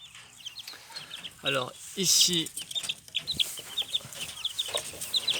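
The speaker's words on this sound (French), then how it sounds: "et là les 2 poulettes Cochamot." Young Cochamot pullets cluck in a farmyard with other poultry, a few short bursts scattered through the clip among faint chirping birds, while a person talks briefly nearby.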